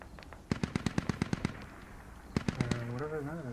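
Rapid bursts of video game gunfire, a fast string of sharp shots followed by a pause and another short volley, with a low engine-like hum underneath.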